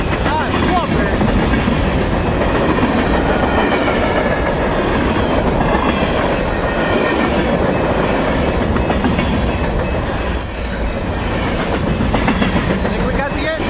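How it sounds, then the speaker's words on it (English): A fast-moving train rushing past close by, a loud continuous rumble with rhythmic clickety-clack of wheels on the rails and a few brief squeals, with occasional excited voices. "This train's flying!"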